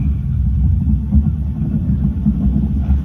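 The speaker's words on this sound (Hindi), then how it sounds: "मक्खन शाह लुबाना, एक सिख व्यापारी, बीच समंदर में तूफान के बीच फंसे हुए थे" Storm-at-sea sound effect from the Red Fort light and sound show, a loud, continuous low rumble with throbbing swells, heard without speech.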